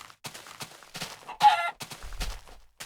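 A chicken in the video game Journey to Farlands clucks in quick, close bursts, ending in one louder, squawking call.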